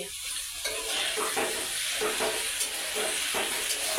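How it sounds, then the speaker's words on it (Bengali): Okra (bhindi) frying in a pan on a gas stove gives a steady, close, dense sizzle with soft stirring scrapes running through it, and no voices. "আমাকে ভেন্ডি ভাজি করে খাওয়াবে"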